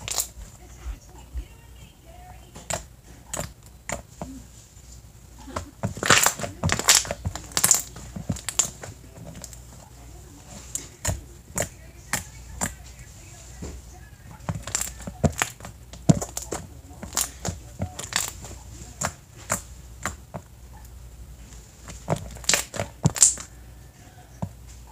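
Makeover slimes are squished and poked in an ASMR session, giving sharp sticky clicks and pops in irregular bursts, loud up close against a quiet background.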